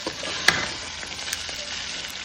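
Tamarind rice (puliyodharai) being stirred and tossed in a pan after the rice is tipped in, giving a steady soft sizzle with scraping, one sharper clack near the start.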